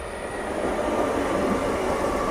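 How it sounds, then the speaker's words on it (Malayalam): An Ernakulam–Palakkad MEMU train pulling into Chowara railway station, a steady loud rumble of wheels and carriages with a faint high whine above, continuous and close throughout. "Ernakulam junction, Palakkad junction MEMU ഇവിടെ ചൊവ്വറയിൽ വന്നിപ്പോൾ നിർത്തും കേട്ടോ."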